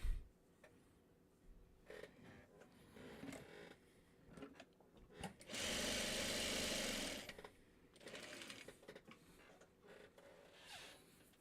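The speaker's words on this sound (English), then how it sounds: "I'm just sewing all these smaller pieces together" Sewing machine stitching small fabric pieces together, short mechanical bursts, then a long steady whirring run in the middle, followed by more brief stitching spurts, close and without talk.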